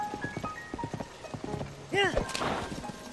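Horse hooves clip-clop at a gallop in the video game Zelda: Tears of the Kingdom, a quick rhythmic patter beneath someone talking through most of the stretch.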